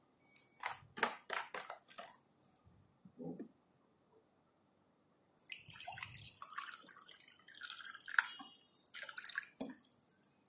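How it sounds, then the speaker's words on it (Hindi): Water trickles and splashes into a cup in short bursts, pausing briefly before a longer, steadier pour; close and fairly quiet. "ये हमारे पास एक कप है अब इसमें हम पानी डालते हैं"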